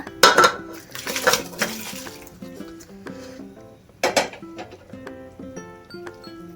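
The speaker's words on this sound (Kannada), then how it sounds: "ಇವಾಗ ಬೇಯಿಸಿಟ್ಕೊಂಡಿರೋಂಥ ಇತ್ತಿಗೆ ಬೇಳೆ ಕೂಡ ಹಾಕ್ಕೊಳ್ಳೋಣ." Cooked field beans tipped into a pot of sambar, with metal utensils clinking and scraping against the pot in a few bright bursts amid soft musical tones.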